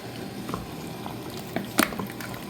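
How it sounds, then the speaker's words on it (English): Grapes simmer in a pot, a low bubbling liquid burble with a few small pops and one brief louder splash-like burst, with no voices. "We have the grapes simmering down"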